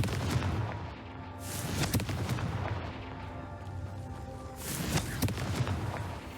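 A Confringo fire spell from Hogwarts Legacy bursts in booming blasts, with a loud explosive hit near the start, more thuds around two seconds, and another burst near five seconds over a continuous game rumble.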